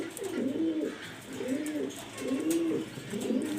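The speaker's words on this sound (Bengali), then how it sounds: "রোমান গাল নর কবুতর খুবই আনকমন।" A male Roman pigeon coos four times in a steady, rhythmic series, close and clear, with a faint background hiss and no talk.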